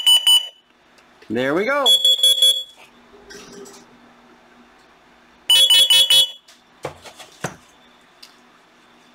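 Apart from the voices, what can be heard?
Honeywell 5800CO detector test alarm sounding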